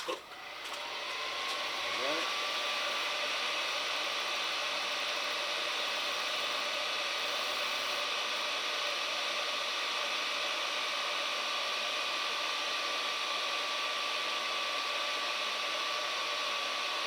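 A Chinese diesel heater's fan spins up and then runs as a steady, even whir with a constant tonal hum, close and continuous, with no speech over it.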